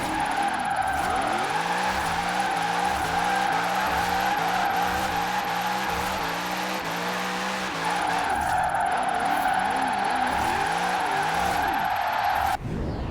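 A C8 Corvette in Forza Horizon 4 drifts and spins out, its engine droning loudly while tires squeal continuously through the slide, a brief break midway before the screech resumes.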